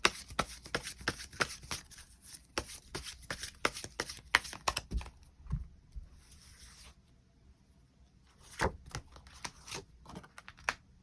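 Tarot cards being shuffled and drawn up close, a rapid run of crisp papery flicks and slaps that pauses briefly midway before another quick burst of card handling.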